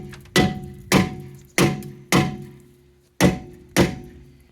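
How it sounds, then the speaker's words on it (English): Six heavy metallic hammer blows ring out on a rusted Jeep Patriot rear brake drum, spaced about half a second apart with a short pause midway, each clang decaying quickly. "give her a few shots with the hammer"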